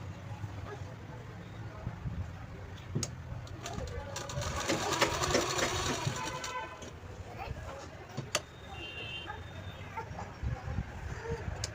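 A sewing machine stitches a folded hem on a frock in a short, fast whirring run in the middle, between quieter stretches of room noise, with birds cooing faintly in the background.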